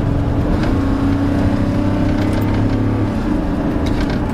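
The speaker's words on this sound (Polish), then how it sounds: "w tym trybie Sport dość ochoczo się rozpędza" A 1.5-tonne rear-wheel-drive Volvo in Sport mode pulls hard under full throttle, its steady engine drone rising gradually in pitch and staying loud and close throughout, with no talking.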